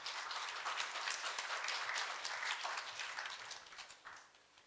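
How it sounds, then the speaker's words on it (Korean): Steady applause from an indoor audience at a Korea University KU Pride Club health forum greets a university administrator, a dense, fairly even wash of many hands clapping with no talk, fading slightly toward the end. "박수로 맞아주시기 바랍니다."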